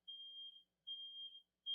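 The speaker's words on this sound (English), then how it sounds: "That must be the water alarm." Water leak alarm giving out a thin, high electronic tone in repeated long beeps, three pulses with short gaps, clear against a silent background.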